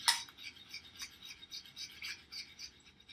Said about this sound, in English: All right, and I'm going to whisk it up